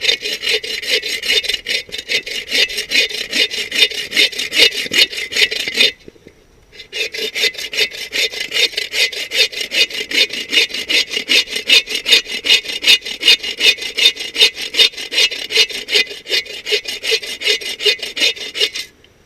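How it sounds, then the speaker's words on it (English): Hand saw cutting into a piece of resinous fat wood, a loud close rhythmic rasping of rapid back-and-forth strokes that runs continuously, broken by one brief pause. "you can take your saw if you got one, and you can saw into that piece of fat wood"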